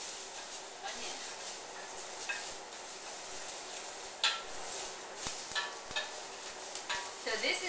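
Shrimp stir-fried with mushrooms and onion, a soft steady sizzle with light clinks and scrapes of a utensil against the pan, faint and close, with a voice briefly audible.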